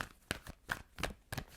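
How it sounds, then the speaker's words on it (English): Tarot cards being shuffled, a few quick papery riffles and soft slaps in an irregular rhythm, close and fairly quiet. "Let's get a good shuffle."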